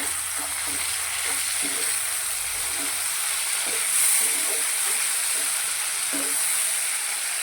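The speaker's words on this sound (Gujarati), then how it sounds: "એક ટામેટાને આ રીતે ઝીણું કટ કરી લીધું છે તે અંદર એડ કરીશું" Finely chopped tomato hits onions frying in a pan for a capsicum curry, giving a continuous hiss and sizzle with faint stirring clinks. The sound is close and steady, with no voices.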